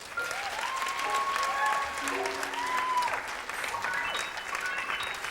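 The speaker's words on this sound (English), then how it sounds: "How about a big round of applause, ladies and gentlemen?" An audience at a Latin jazz performance lecture at the Kennedy Center breaks into sustained, full applause, with scattered whoops and voices on top of the steady clapping.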